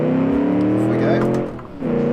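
A lightweight 1956 Gasmea sports car in the Automation racing game revs hard on a time-trial track, its loud steady engine note rising in pitch, briefly dipping as it lifts off, then pulling again, with faint talk underneath.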